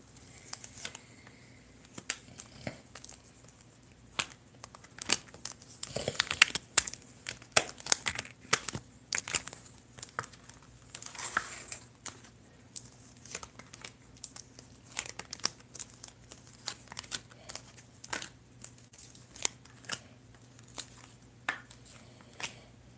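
Tarot cards being shuffled by hand, heard as a long run of close, crisp riffling and crinkly flicks in irregular bursts, with quiet pauses between and a low steady hum beneath.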